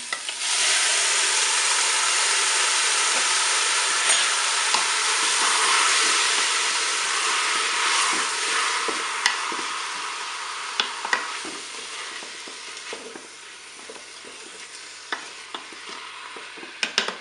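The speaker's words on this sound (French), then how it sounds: "les oignons pour les faire dorer. Je vais maintenant ajouter des champignons." Onions and mushrooms fry in a Cookeo multicooker pot, a steady loud sizzle that holds for the first half and then eases, with scattered stir clicks and taps toward the end; no voices.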